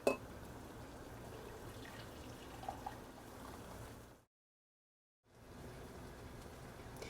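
Water pours steadily into a measuring cup for chicken bouillon in a home kitchen, a continuous splashing trickle that stops abruptly partway through, then resumes faintly.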